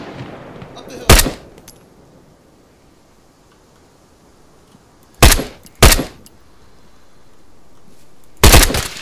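Suppressing gunfire in a video game base attack: four loud, sharp gunshot bursts, a single one, then two close together, then one more, over a quiet background hiss.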